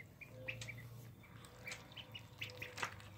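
Young ducklings, about two weeks old, call excitedly in a burst of short chirps and peeps just after feeding, with some distant motor noise in the background.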